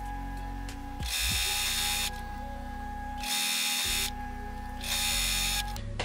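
A sewing machine stitches churn dash quilt block pieces together in three steady whirring runs, each a second or so long, loud and close with a mechanical hum between runs, no talking.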